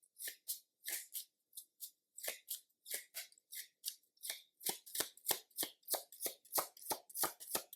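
Tarot cards being shuffled and drawn: a run of crisp paper flicks and riffles, close and fairly quiet, with brief pauses early on, then faster, denser and louder slaps toward the end.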